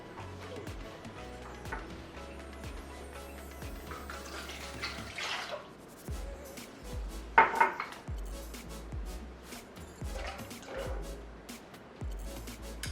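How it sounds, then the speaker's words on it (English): Milk and eggs pour into a bread machine pan with a steady, splashing liquid stream, broken by occasional clinks of a container against the pan, close by with no talk. "first we're going to add in the milk and the eggs"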